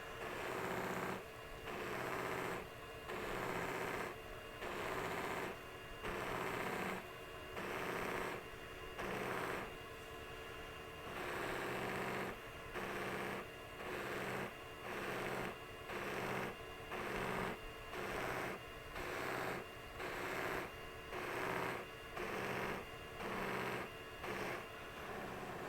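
Resin mallet pressed against a spinning buffing machine wheel, a steady close mechanical whir broken into regular rhythmic pulses about once a second as the piece is worked, running continuously for the whole stretch.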